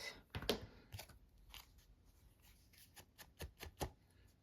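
Scissors trimming paper for a Christmas junk journal, a few quiet, close snips and crisp paper rustles spaced out in a soft, intermittent pattern.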